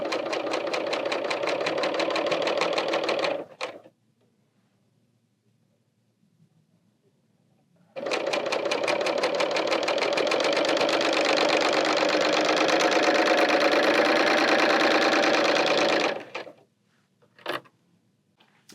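A Bernina L890 serger overlocks a t-shirt neckline, running in a short burst, pausing, then stitching steadily for about eight seconds before a brief final blip, close and alone.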